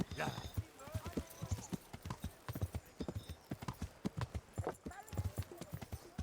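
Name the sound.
horse hooves clip-clopping in video game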